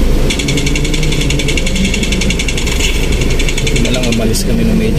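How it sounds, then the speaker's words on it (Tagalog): Steady road traffic in a busy street with loud car engines rumbling close by, a constant dense drone with a rhythmic higher buzz layered on top, and faint voices mixed in. "Traffic."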